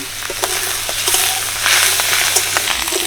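Pieces of fat stirred in a dry wok with no oil, giving a steady close sizzle with scattered sharp crackles and pops throughout.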